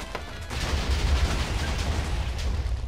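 A low, rumbling burst of TNT explosion noise in Minecraft swells after a brief pause and sustains for a couple of seconds, dense and heavy with no voices.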